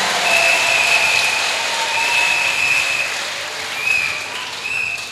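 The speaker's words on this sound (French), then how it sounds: "Can you put your hands together again for this great God?" An audience in a church applauds continuously, a dense, sustained wash of clapping at steady loudness that swells slightly near the end, with a faint high tone running above it.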